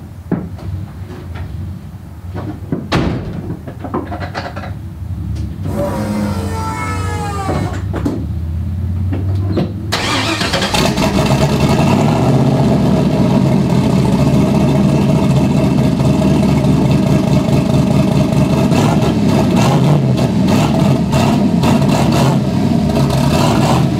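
A Nissan S14 with a CA18DET engine and head sump fittings cranks with a few clunks, catches, and settles into a loud, rough idle with blips of revving, close and sustained for the rest of the clip.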